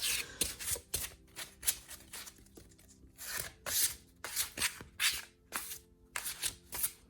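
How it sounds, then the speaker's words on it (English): A tarot deck is shuffled overhand, producing a rhythmic series of crisp, papery slaps and riffling swishes as packets of cards drop, repeated roughly every half second, close up and moderately quiet. "now let's try some overhand shuffling"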